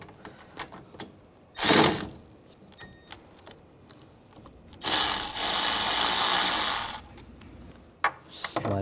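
A ratchet with a 13 millimeter socket loosens the AC line fittings on a 2013-2016 Dodge Dart 2.4L, giving short bursts of close clicking and a longer steady ratcheting run, with light clinks between.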